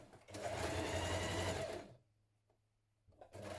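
A sewing machine stitches a 1.5 centimetre seam down the side of a hoodie wristband in one steady close run, stops for a brief quiet gap, then starts again.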